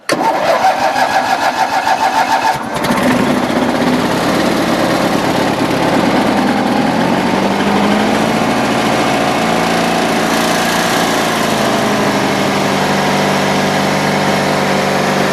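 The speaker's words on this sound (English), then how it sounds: "let's see if we can get some of these lawnmowers fired up and put away for the year" Small lawn mower engine struggling with choke, then catching at about three seconds and running steadily at a loud, constant idle close by, alone with no talk.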